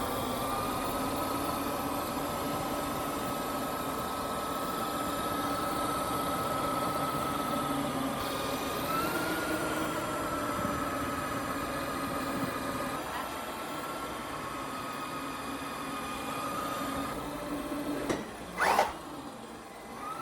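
An ARRMA Granite 1/10 BLX V4 brushless 4x4 RC monster truck runs a warm-up, giving a steady, even motor whine with a tonal hum throughout and a brief sharper burst near the end, no talk.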